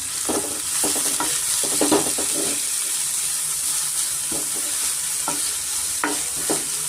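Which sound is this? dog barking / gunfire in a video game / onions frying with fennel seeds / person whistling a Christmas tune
onions frying with fennel seeds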